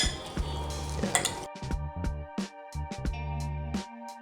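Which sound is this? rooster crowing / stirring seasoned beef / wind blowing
stirring seasoned beef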